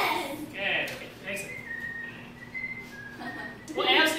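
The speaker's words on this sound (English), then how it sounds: "He's whistling" Someone whistles a short series of thin, sustained tones with brief pauses, heard nearby between bursts of talking at either end.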